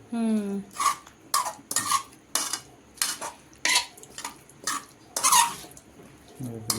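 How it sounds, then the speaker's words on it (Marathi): A metal spoon stirs chickpeas coated in masala for chana koliwada, clinking against the pot in a steady series of sharp, close taps about twice a second. "आता चमचा घेतला चमच्याने करतात एकत्र असं याला सगळ्याला लागला पाहिजे"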